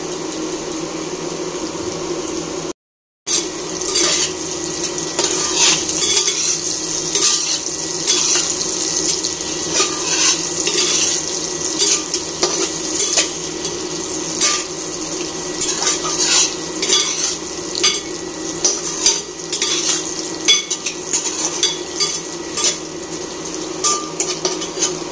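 Potato pieces fry with turmeric powder in a pan for a mutton curry, giving a steady, loud, close sizzle with a spatula scraping and stirring through it.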